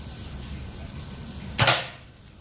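One quick, snapping shot from a Mouser Biggame magazine air rifle rings out over a quiet hiss of background noise.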